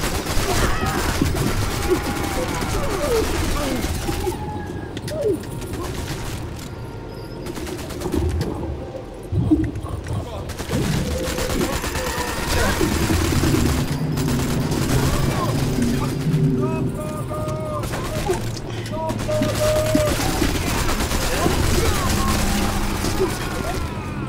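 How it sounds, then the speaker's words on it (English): Machine gun fire and other gunfire in a Sniper Elite 4 co-op survival game, repeated bursts running through dense battle noise with people talking over it. "we're gonna have the machine gun do it"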